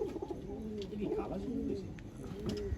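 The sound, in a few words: pigeons cooing in a loft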